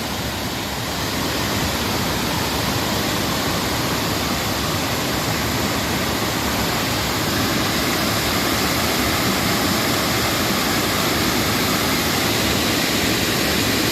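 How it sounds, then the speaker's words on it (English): Steady, loud roar of a waterfall at Ricketts Glen State Park, a dense broadband rush of fast-moving water heard up close and continuous without pause and without any talking. "There's the first waterfall."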